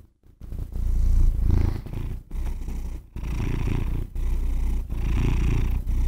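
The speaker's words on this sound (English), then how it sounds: "He starts purring like crazy." A cat purrs loudly and continuously up close, a deep rumbling purr broken by brief pauses for breath.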